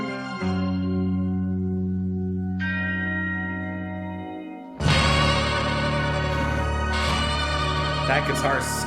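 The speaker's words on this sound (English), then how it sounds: "And the bells, the church bells" Church bells ring out within a classical-style progressive rock album track, the tolling bell tones layered over sustained orchestral chords before the full band swells in loudly.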